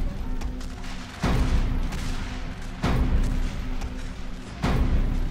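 Troops fire uphill in a strategy video game, with volleys of massed musket or rifle shots breaking out in three loud bursts over a steady rumble of battle noise, no voices.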